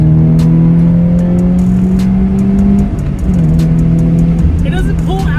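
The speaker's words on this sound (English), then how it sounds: "I could hear the engine a little bit more" A Toyota FRS with an Injen cold air intake fitted sends out a loud, steady engine drone, with one brief dip midway before the tone returns, while a voice talks over it.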